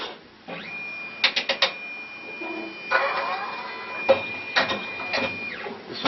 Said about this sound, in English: It doesn't take very long to print, probably like max like 30 seconds